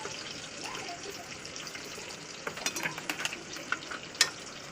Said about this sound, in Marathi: आता ही पेस्ट आपल्याला चांगल्या प्रकारे परतून घ्यायची आहे.